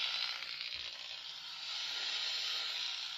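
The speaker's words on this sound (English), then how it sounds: "It picks up the static, white noise from that." A steady electronic static hiss from an EMF reader held near a TV, bright and continuous, with faint fluctuations and no other sounds.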